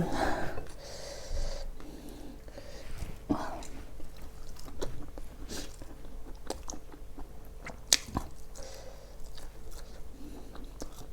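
Close, quiet chewing and biting while eating spicy curry, with soft crunches, sniffs and breathy snorts scattered through, and no talking.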